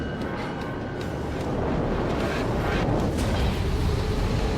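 A nuke exploding in Wolfenstein 2: The New Colossus, a dense continuous roaring rumble that swells slightly and holds loud throughout, with no voices over it.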